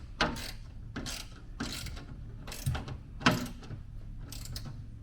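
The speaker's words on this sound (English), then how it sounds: "now that I've got this in, I'm going to tighten this all the way down." A ratchet wrench clicks in short bursts as bolts are tightened while a ridgeback carrier is installed on a Jeep TJ, several close rhythmic ratcheting runs separated by brief pauses.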